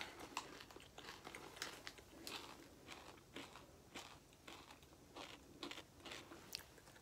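Someone close by crunches and chews a Fujiya Bomcho snack, each bite giving a crisp crackling burst in an irregular run of about a dozen snaps, with no talking.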